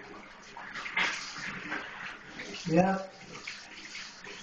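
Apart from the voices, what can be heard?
hot water running from a tap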